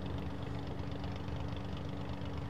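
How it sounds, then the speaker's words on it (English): A float plane's propeller engine drones steadily and loudly with a deep, even hum, alone and without any talk. "Oh, listen to that engine."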